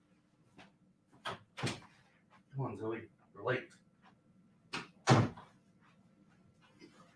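An office door is opened to let a chihuahua in, a few soft knocks and thuds of the door amid a person talking.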